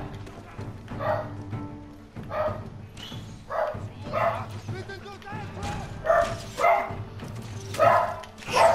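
A pet dog barks repeatedly in a home setting, a series of close, loud yapping barks and a few whimpers arriving in uneven bursts, with someone talking in between.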